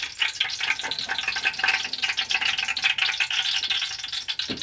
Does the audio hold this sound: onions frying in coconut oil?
yes